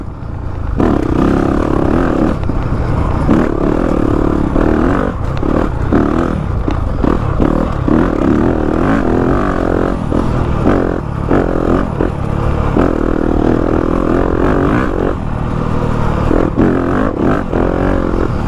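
A Yamaha YZ250FX dirt bike engine while riding: loud and close, with a steady droning roar that rises and falls with the throttle and some mechanical clatter, continuous and alone.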